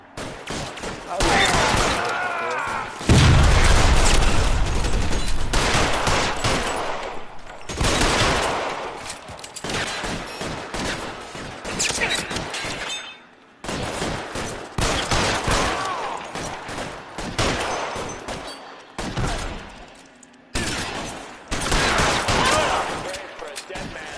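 Shootout gunfire in LA Noire, sustained loud volleys of game shots with short gaps, heavy and close, mixed under shouted voices throughout.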